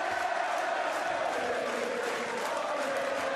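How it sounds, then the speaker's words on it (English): A boxing crowd at a big Irish fight night roars in a dense, continuous wall of cheering, loud and steady without a break. "The crowd, they believe they're watching a big Irish night"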